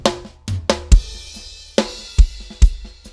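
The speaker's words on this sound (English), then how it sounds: "But when you turn it off, it sounds like this. It's really dry." Dry snare drum in Logic Pro X with reverb buses switched off, a short pattern of crisp strikes and low kick thumps, tight and close with little decay, played alone.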